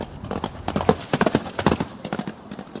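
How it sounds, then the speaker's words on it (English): Horse hooves clip-clop in a rapid galloping rhythm, close and prominent, as a sound effect in a live Star Trek radio drama reading of Kirk jumping a ravine on horseback in the Idaho countryside. "Kirk jumps a ravine on the horse."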